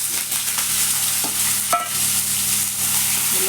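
Steady hot-oil sizzling from chana dal and curry leaves frying in a pan for potato masala, a constant crackling hiss with a few light clinks of stirring.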